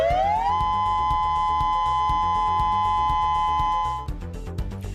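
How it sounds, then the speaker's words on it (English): Hawaii's Cold War-era nuclear attack warning siren sounding during a statewide test, a wailing tone that rises then holds steady and loud for several seconds before cutting off, with faint background noise after. "That siren blaring for the first time since the Cold War"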